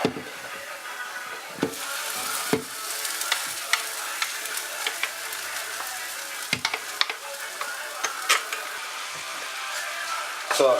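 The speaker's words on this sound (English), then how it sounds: "So give this a good mix and fry for about 5 minutes." Beef vindaloo spice mix frying with ginger in a pan, a steady sizzle broken by scraping stirs and sharp clinks of the utensil against the pan, close and fairly loud.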